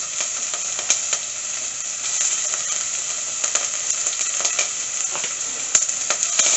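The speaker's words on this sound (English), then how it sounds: "Okay, nice popping sound." Cardamom seeds and onions sizzling in hot oil, a bright, constant hiss dotted with small irregular pops and crackles throughout, close and fairly loud.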